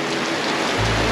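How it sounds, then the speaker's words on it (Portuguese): Heavy rain falling at Praia da Paixão beach in Prado, Bahia, a steady dense hiss of downpour, loud and close, with no voices. "Como vocês podem ver, tá chovendo."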